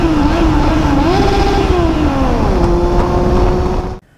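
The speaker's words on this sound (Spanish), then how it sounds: "la segunda parte de la prueba de la Triumph Bonneville T120" A Triumph Bonneville T120 motorcycle riding on interurban roads and twisty bends, its engine droning steadily near and loud, pitch rising and falling with the throttle, then cutting off abruptly at the end.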